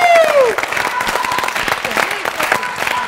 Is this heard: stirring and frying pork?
no